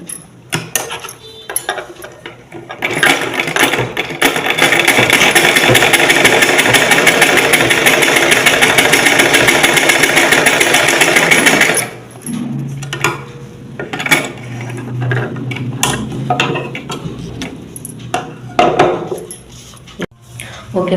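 Sewing machine running in a steady continuous whir for several seconds at close range, then stopping, followed by scattered handling clicks and brief bursts.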